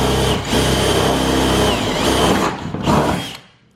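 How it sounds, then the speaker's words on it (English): A power drill with a big bit bores into a Nissan 350Z hood hinge, whining loudly and close in one long run that dips, then a shorter burst before stopping. "Let's drill into like a hood hinge or something."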